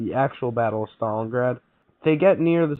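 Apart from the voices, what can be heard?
No everyday noises stand out.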